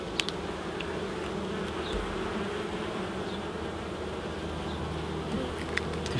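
Honey bees buzzing steadily from an open beehive during an Apiguard treatment, a continuous low hum of many bees close by with no talk.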